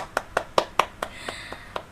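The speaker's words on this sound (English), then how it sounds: "So let us big round of applause again to Mr." Scattered claps at a youth webinar, about eight separate hand claps spaced roughly evenly, fairly faint and thin like a few people or a single participant rather than a full audience.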